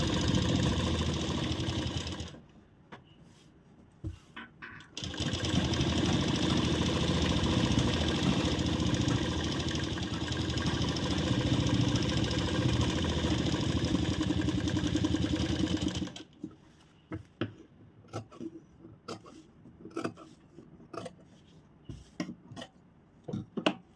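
Electric sewing machine stitching a shawl collar blouse: a steady, dense mechanical whir runs for long stretches, pauses briefly, then gives way to short stop-start bursts of stitching near the end, close and alone with no speech.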